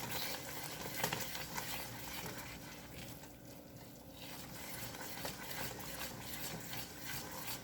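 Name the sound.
stirring heavy cream into butter pecan pound cake batter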